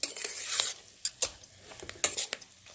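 A spoon stirring and mixing egg curry in a pan, with a handful of short metallic scrapes and clinks spaced irregularly, heard close and fairly quiet.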